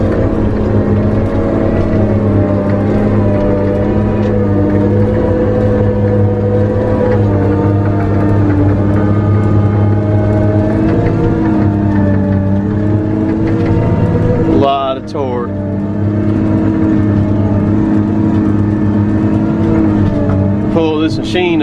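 A Tigercat skidder's engine drones loud and steady at close range while it pulls trucks. The rumble dips briefly about two-thirds through, with a voice breaking in, then carries on.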